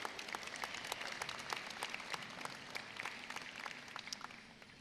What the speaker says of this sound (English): Let's give a round of applause to Dr. Whiting.